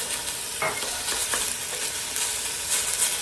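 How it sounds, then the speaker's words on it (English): Half a cup of chopped onion browning in fat in a pan, a loud, steady sizzle close up with a few scraping stirs of a utensil and no talk. "I have half a cup of chopped onion. And I'm gonna brown this for just a few minutes"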